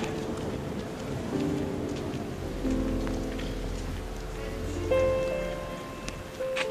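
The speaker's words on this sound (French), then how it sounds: "il fait que de pleuvoir depuis tout à l'heure" Steady rain falls outdoors in Venice, a continuous wash of drops on hard surfaces with a low rumble underneath, holding at a constant level throughout with no voices.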